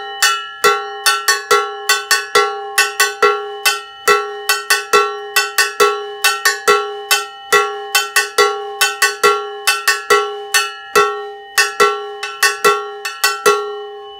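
Cowbell struck in a bongo-bell salsa pattern, sharp metallic clanks in a steady repeating rhythm with alternating accents, close and loud, alone for the whole stretch.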